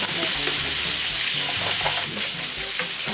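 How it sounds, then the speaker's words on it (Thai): Fish fries in hot oil in a pan, a dense, steady sizzle with crackles close by, and faint background voices. "ส่วนปลาเราตอนนี้เราให้แม่ทอดอยู่เนาะ"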